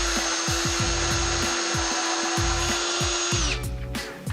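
A power drill bores pilot holes into wood to mount a short hidden shelf bracket, running in a loud, steady whine close to the mic for about three and a half seconds before spinning down.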